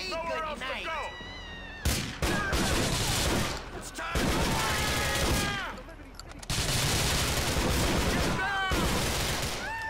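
Gunfire in the video game GTA IV: The Lost and Damned crackles in dense, overlapping volleys of rapid shots, loud and continuous with brief lulls, while shouting voices cut in over the barrage.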